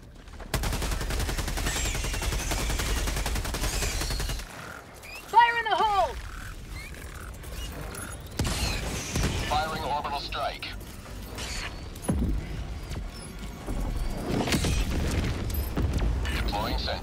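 A grenade blast and bursts of gunfire from the Helldivers 2 video game, played solo with starter gear, mix with mechanical clanks and whistling effects, while a voice calls out over the loud action.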